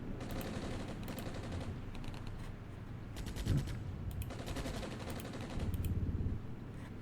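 Gunfire in the war game Armored Brigade during the First Battle of Grozny. Machine-gun bursts crackle in repeated clusters at a moderate distance, with louder rattling near the end and no speech.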